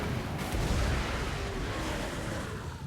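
Warp lightning cannons fire in a Total War: Warhammer II battle, a dense, continuous rumble of heavy booms and crackling blasts that stays loud throughout, with no clear gaps.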